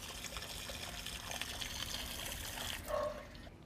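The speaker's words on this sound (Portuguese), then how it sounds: "A água cai na canaleta" Water trickles and splashes into an outdoor drain channel leading to storm drains, a faint, continuous close-up dribble with a brief louder gush near the end.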